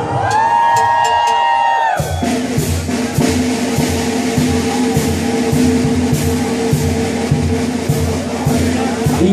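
A concert crowd at a show in Knoxville, Tennessee cheers, whoops and shouts loudly and steadily after a short burst of music, the roar continuing unbroken throughout.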